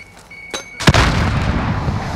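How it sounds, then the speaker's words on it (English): A grenade blast in Call of Duty: Modern Warfare lands as a sudden loud boom after a couple of faint clicks, then gives way to a long rolling rumble of debris and echo. "Throw a grenade!"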